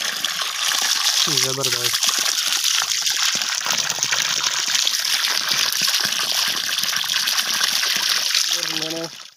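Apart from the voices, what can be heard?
12V DC water pump gushing water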